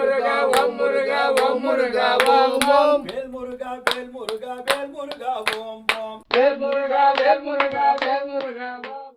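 At a full-moon fire ritual, a group claps their hands in a sharp, fairly regular beat to summon Maha Muneeswarar, the claps sounding under loud, sustained chanting or singing.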